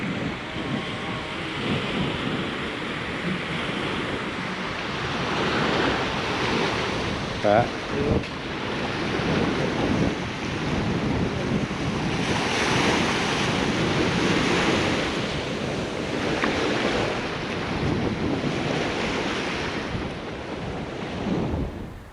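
Ocean surf rolls in continuously at Kusik Beach on Jemaja Island, Indonesia, with steady wind buffeting the microphone; the waves surge and recede in broad swells, loud and close, with a brief voice heard once.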